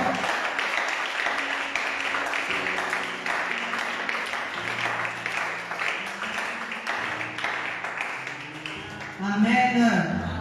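A church congregation claps and cheers for the Lord during a service, with steady rhythmic clapping blended with sustained voices or music and a louder swell near the end.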